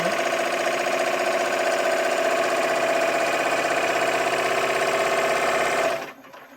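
A Happy Japan HCS3 embroidery machine runs fast and steady to spread fresh oil, a close, continuous whirring mechanical hum that cuts off abruptly near the end.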